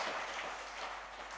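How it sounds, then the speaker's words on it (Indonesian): A church congregation applauds during a Sunday service in Toraja, Indonesia, giving a steady, dense wash of clapping that stays fairly even and moderately quiet throughout. "Mari kita berikan tepuk tangan untuk kemuliaan Tuhan."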